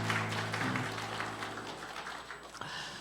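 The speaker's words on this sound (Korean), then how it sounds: "우리 격려의 박수 한번, 사랑의 박수 한번 하도록 하겠습니다" A church congregation claps together during a Sunday worship service, steady dense applause filling the sanctuary with a low musical drone underneath, tapering off near the end.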